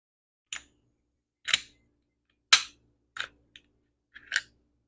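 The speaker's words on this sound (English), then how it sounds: "So you take apart your Glock 19." A Glock 19 Gen 3 pistol being field-stripped: a handful of sharp, separate metallic clicks and clacks, about six over five seconds at irregular intervals, close and crisp with silence between, no talking.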